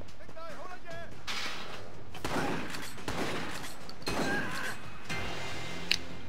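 Rapid bursts of gunfire and impacts crackle through a firefight in the video game Triad Wars, loud and broadband in repeated volleys, with a voice audible over the shooting.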